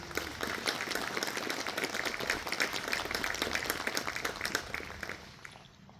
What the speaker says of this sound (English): And we have another round of applause for their beautiful singing.